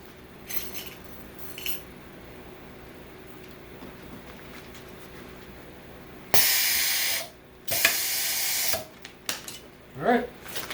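An automatic grommet machine setting grommets into fold-over vinyl hems gives two loud hissing pneumatic bursts of about a second each, followed by sharp mechanical clacks, with quieter ticks before them.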